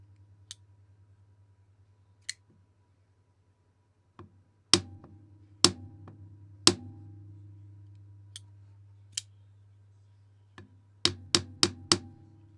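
Light hammer taps on a Ketuo Illus EDC knife, striking toward the blade tip to test the lock: sharp, isolated clicks in an irregular sequence over a faint steady hum, ending with a quick run of four taps.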